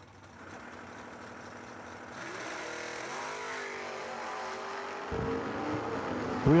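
Door cars at a drag race idle, then launch off the line. The engines swell into a loud rising roar, with a sharp burst of revving at the end.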